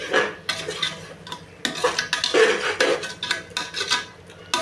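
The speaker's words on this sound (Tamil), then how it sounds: "நல்லா கிண்டி விட்டுக்கலாம்." A spoon stirs a thick paste of ground coriander, curry leaves and mint in a metal pan, making irregular close scraping strokes and clinks over a faint background sizzle.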